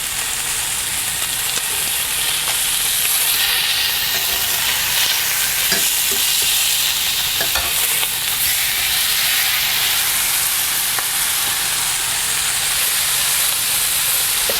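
A chuck eye steak fries in a hot pan, giving a loud, continuous close-up sizzle and hiss with faint scrapes and knocks as it is flipped.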